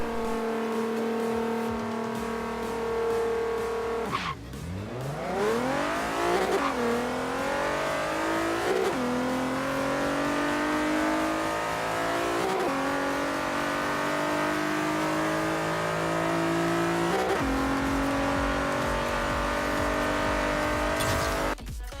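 Modified Nissan 350Z (Z33) on a half-mile acceleration run, loud engine revving up repeatedly through gear changes, each shift dropping the pitch before it climbs again, steady and close throughout.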